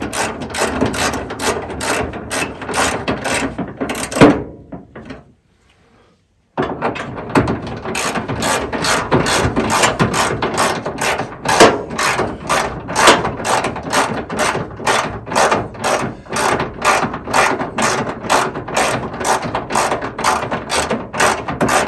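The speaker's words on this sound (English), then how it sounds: "I need an electric ratchet." Electric ratchet spinning a fastener on a 1978 Chevy C10, a loud, close, rapid clicking whir in a fast regular rhythm, stopping briefly for a second or two before resuming steadily.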